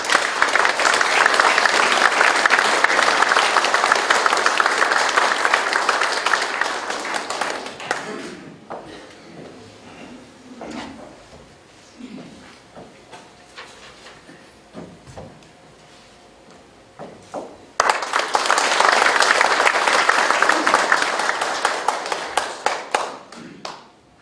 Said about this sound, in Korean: 나오실 때 따뜻한 격려의 박수 주시면 감사하겠습니다